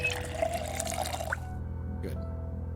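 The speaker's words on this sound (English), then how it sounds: "Let's fill our water bottle while we can." Water bottle being filled in the video game Project Zomboid, a steady trickling pour with drips that cuts off abruptly partway through, moderately close.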